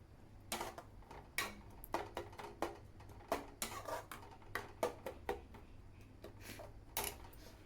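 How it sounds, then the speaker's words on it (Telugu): A spoon clatters against a pan while masala for mushroom curry is stirred, giving a string of sharp metallic taps and scrapes in an irregular rhythm, close and fairly quiet, with no talking. "బాగా కలుపుకుంటున్నాను."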